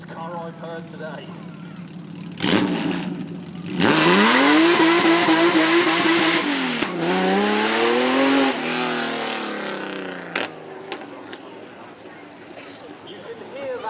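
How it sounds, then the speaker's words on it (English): At a supercar weekend, a very loud supercar bursts into life and revs repeatedly in sharp rising sweeps, roaring close by for several seconds before dropping to a low idle with scattered background noise. "You can hear that car from 2 counties away."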